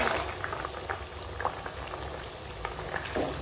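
A pot of spinach curry broth bubbles steadily, a continuous close hiss with small popping bubbles throughout, and no voices.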